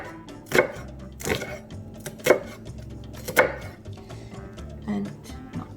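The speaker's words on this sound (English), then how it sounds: "how to get a perfectly diced onion, so you would go this way" A knife chops through an onion on a cutting board, dicing it for a gluten-free winter soup: several sharp, separate knocks spaced unevenly, close and fairly loud, with soft speech-like murmurs between the strikes.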